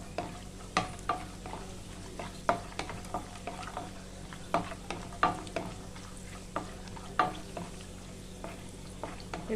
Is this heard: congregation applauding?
no